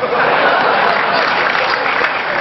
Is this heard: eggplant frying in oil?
no